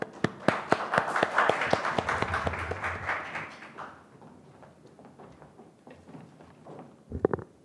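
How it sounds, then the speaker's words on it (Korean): A burst of crowd applause at a youth speech contest in Korea's National Assembly, many hands clapping, fading to scattered claps and then a few louder claps near the end. "안도훈 학생의 연설을 박수로 들어보겠습니다."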